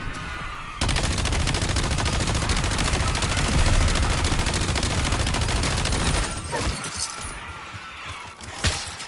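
A mini turret in Black Ops 7 fires a rapid, unbroken stream of shots for about five seconds, loud and close, then gives way to scattered explosions and quieter game noise.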